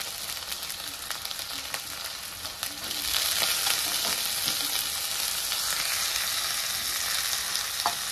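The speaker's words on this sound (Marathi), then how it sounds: "आता ह्यातच मी बटाटा टाकून घेणार आहे. का तर बटाटा कच्चा आहे, आपल्याला तेलाबरोबर तेलात शिजवून घ्यायचं आहे." Raw potatoes sizzle and fry in hot oil with onion and curry leaves for potato poha, a steady close crackling that swells louder partway through as they are stirred in the pan.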